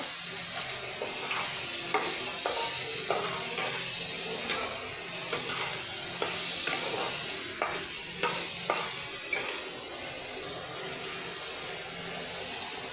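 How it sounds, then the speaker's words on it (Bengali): Onion sizzles lightly in a pan with potatoes for a Bengali cauliflower curry, a steady hiss overlaid by rhythmic stirring taps and scrapes repeating every second or so, close and without talk. "পেঁয়াজটা একটু হালকা ভেজে নেব"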